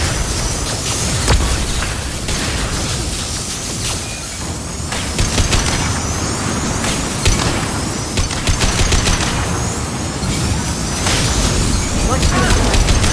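Dense, continuous gunfire from Mass Effect 2 with loud bursts and booms, including a flashbang, rattling throughout under occasional voices.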